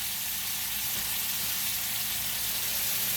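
Pancetta sizzling in its rendered grease in a pan, a steady, close hiss and crackle of frying fat, even and continuous throughout, with no voices.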